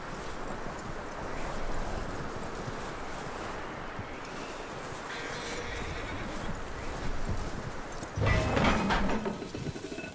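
A horse in Red Dead Redemption 2 moves over open ground with soft hoofbeats under steady wind and ambient noise, and a louder burst of movement or a whinny comes near the end.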